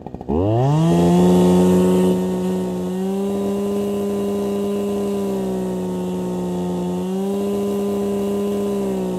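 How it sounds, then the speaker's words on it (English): Small two-stroke engine idling steadily after a carburetor screw adjustment, loud and close with a buzzing, slightly wavering pitch that dips and recovers, no talk over it. "you can hear the pitch and the rhythm of the engine just change, and it's really subtle"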